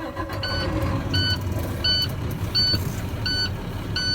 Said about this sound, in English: I'm going to safe start the engine. Allow pressure to build up.